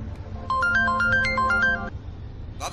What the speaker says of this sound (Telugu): ఈ టైంలో ఫోన్ ఎవరు?